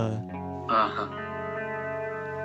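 Sustained line-in guitar chords washed in heavy reverb, notes blooming and ringing out into a smooth ambient haze with a brief brighter strum in the middle.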